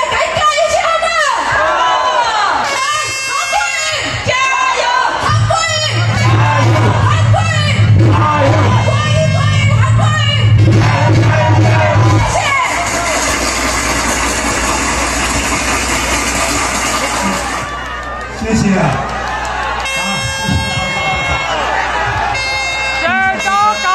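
A campaign rally crowd in a Jiali park cheers, shouts and applauds loudly, with a voice over the crowd at first, then a sustained swell of cheering and chanting that drops off before a brief final burst.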